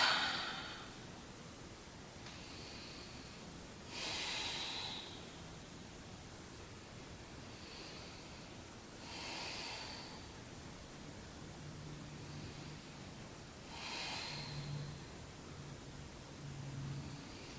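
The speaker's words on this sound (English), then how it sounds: "Really slow down your breath." Slow, deep breaths during a yoga twist, drawn in and let out about every five seconds, soft and airy with a hushed background and no talking.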